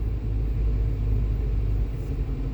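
A parked car idles with its engine running on a cold day, a steady low rumble close by that fills the background without change in pitch.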